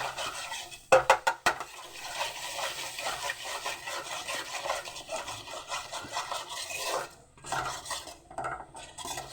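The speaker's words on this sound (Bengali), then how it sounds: "যতক্ষণ না মশলা থেকে তেল ছাড়ছে ততক্ষণ আমি মশলাটা কষিয়ে যাব।" A spoon scraping and stirring masala paste as it fries in a pot for Bengali khichuri, with steady close metallic rubbing strokes and a few sharp clinks near the start, no voices.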